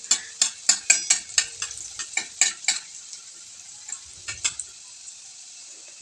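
Cumin and chopped garlic frying in a little oil in a kadhai, heard as a rapid series of sharp spatula scrapes and taps against the pan over a faint hiss, then a few sparser strokes.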